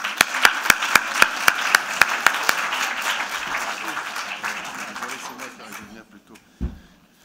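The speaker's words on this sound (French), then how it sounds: "je vous remercie de l'applaudir." An audience at a talk applauds to welcome a speaker: a few sharp separate claps up front give way to a dense, steady wash of clapping that fades out after about five seconds, with a brief knock near the end.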